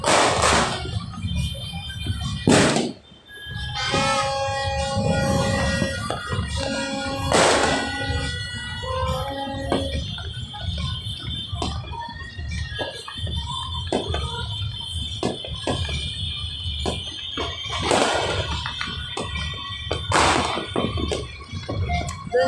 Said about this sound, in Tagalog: Doon ang pinakamaganda ang mga fireworks.